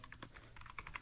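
Fingers typing an email address on a computer keyboard, a quick irregular run of light, close key clicks at a soft level, with no talk.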